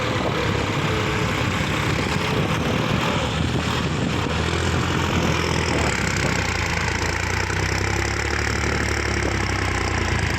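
A John Deere 5050D diesel tractor engine idles steadily nearby, a continuous low rumble with a rough mechanical chug and no voices.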